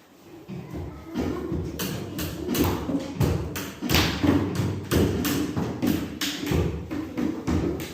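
A basic rhythm pattern tapped out with strong beats one and three, a steady series of close, dull thumping taps repeating evenly for several seconds, some hits louder than others.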